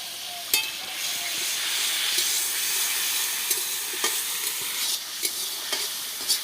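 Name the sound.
soybean curry being stir-fried in oil with spices (kosha)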